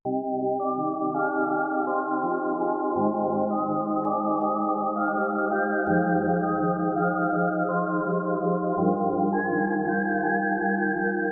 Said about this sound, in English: once you have that main melody, which I have right here, I'll let you listen to it real quick